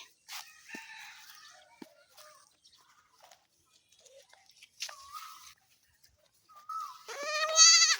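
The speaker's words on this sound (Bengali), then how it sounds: "ছাগল ছানা, ছাগল ছানা, কি হয়েছে তোমার? তুমি কেন কাঁদছ?" A young goat kid bleating in a rural village, a few thin wavering cries spread across quiet stretches, with a rooster crowing loudly near the end.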